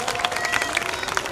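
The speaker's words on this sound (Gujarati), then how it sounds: "તાળી પાડી દો ફરીથી એક વખત." An audience applauds at a student award ceremony honouring students of the Arab Jamat in Jamnagar, a brief burst of dense, steady clapping from many hands in a hall.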